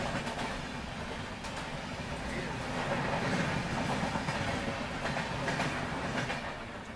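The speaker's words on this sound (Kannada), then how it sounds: "ಯಾವುದೋ ಜಮ್ಶತಾಬ್ದಿ ಟೈಪ್ ಗಾಡಿ ಐತಿ ಈಗ." A Jan Shatabdi type passenger train rolls steadily past, its wheels clicking and clacking over rail joints in a continuous, fairly close rumble that swells slightly midway.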